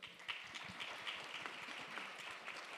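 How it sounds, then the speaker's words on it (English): Applause from an audience at a professional summit panel, a faint, steady wash of many hands clapping that holds evenly throughout. "Let's give a round of applause."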